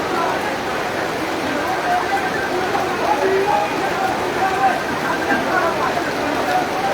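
Steady rain falls in Thakurgaon, Bangladesh, a dense even hiss of drops on surfaces that holds at the same loudness throughout, with faint voices murmuring underneath.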